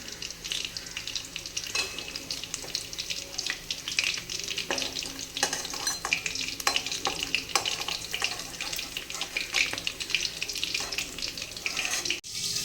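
Chitala (clown knifefish) muitha balls sizzle and crackle steadily in hot oil in a kadai over a medium gas flame, with scattered pops and occasional stirring clinks, no voices.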